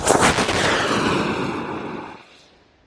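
A model rocket lifts off at a club launch, a loud broadband roar of the motor that bursts on at once, holds for about two seconds, then fades away into the distance.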